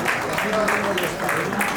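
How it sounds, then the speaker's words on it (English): Audience clapping at a Rotary Club meeting, a steady, dense round of applause that carries through the whole short stretch at a fairly close, even level. "Can we please have a huge round of applause once again"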